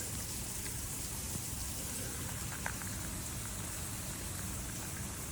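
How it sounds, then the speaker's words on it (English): Steady hissing spray of water from a burst pipe, like rain pattering on surfaces, continuous and fairly faint throughout. "Oh yeah, it's spraying everywhere. I'm getting wet already."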